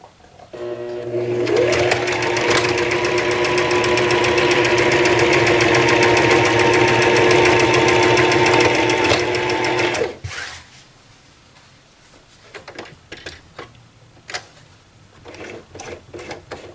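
Sewing machine stitching two pieces of fabric together with a 1/4 inch seam allowance, a loud steady close-up whirring run of about ten seconds that stops abruptly, followed by soft handling noises.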